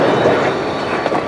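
Tea and Sugar Train rumbling into motion across a flat desert in morning, a loud, close, continuous rolling roar of railcars with faint wheel clatter, no voices.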